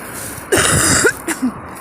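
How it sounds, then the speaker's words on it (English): A single harsh cough bursts out, followed by a couple of short throaty sounds, close by over a faint background hiss. "I don't think I'm going to die from that cough"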